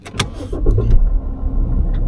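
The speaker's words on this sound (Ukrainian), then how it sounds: "Тепер заведу автомобіль" A Mercedes W211 engine cranks and catches, then settles into a steady low rumble close by, with a brief higher whir near the end.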